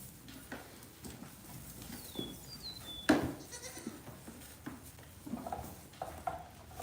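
Goats bleat faintly in a pen, a few scattered calls over low, shuffling background noise.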